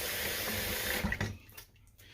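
Hot water runs steadily from a tap into a sink, a continuous close splashing rush that eases off and thins out toward the end.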